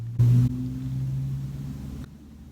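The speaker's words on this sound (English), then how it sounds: "Your freaking loud car is parked outside my house right now for no reason" A loud car sits parked outside a house, its engine giving a steady low rumble with a brief louder surge near the start, heard alone without talking.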